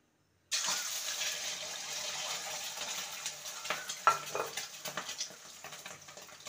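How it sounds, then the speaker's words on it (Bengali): Eggs scrambling in refined oil in a wok, a steady close sizzle with scraping and stirring clicks through the second half, no talk. "ডিমের ভুজি তৈরি করে নেব"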